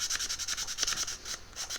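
Rapid back-and-forth sanding strokes rasp steadily across a small hard model bus seat, taking the shine off a 1:24 scale Occre AEC bus part, close up, with a brief pause before the rubbing resumes.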